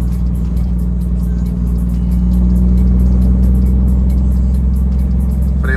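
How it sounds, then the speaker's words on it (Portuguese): An FNM (Fenemê) truck with its engine brake on the third stage gives a loud, steady, deep rumbling roar that holds at an even level throughout, close up and with no talking. "Freio motor 3 estágio"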